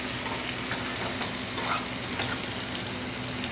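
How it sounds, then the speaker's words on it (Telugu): Chicken 65 being stirred in a hot pan right after half a lemon is squeezed in, a steady loud frying sizzle with scraping stir strokes throughout, no voices. "లెమన్ వేసాక బాగా కలుపుకోవాలి."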